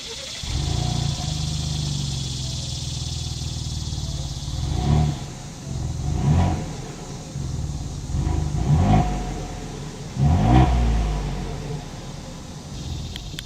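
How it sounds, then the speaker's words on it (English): A 2021 Ford Bronco Wildtrak engine idles with a steady low rumble, then revs sharply about four times, each burst of exhaust roar rising and falling back to idle. "As always, here is that exhaust clip."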